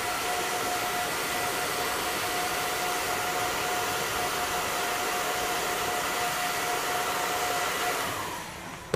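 A heat gun softening a PVC pipe before bending, a loud, steady rushing blast with a faint whine that runs close and continuous for about eight seconds, then cuts off at the end.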